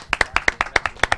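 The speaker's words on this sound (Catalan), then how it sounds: "Un fort aplaudiment per a ells." A small audience claps for a band, with about a dozen close, crisp hand claps in a fast, slightly uneven rhythm, heard alone for just over a second.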